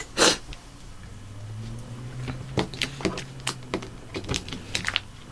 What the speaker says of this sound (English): I'm going to cut it now so that I'm not dealing with a huge piece of plastic